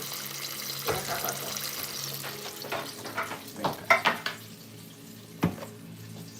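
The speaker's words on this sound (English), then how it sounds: "Wash my hands off." Tap water runs steadily while hands are washed at a kitchen sink, with splashes and a few louder knocks and clatters near the end, no talking.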